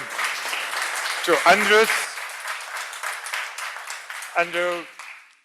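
Conference audience applause at a connectivity forum session, a steady wash of clapping running throughout while a voice speaks over it twice, fading at the end.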